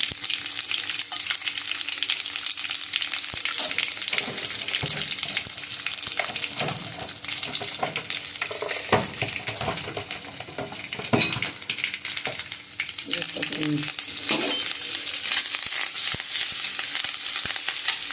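Mustard seeds, cumin and crushed garlic frying in hot oil: a loud, continuous crackling sizzle held close throughout, with occasional spatters and faint stirring scrapes beneath it.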